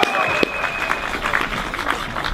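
Audience applause welcoming Professor Dr. Benedikt Weibel at the 696th Monday demonstration against Stuttgart 21, a dense, steady crowd clapping that holds loud for the full length with a few cheers mixed in.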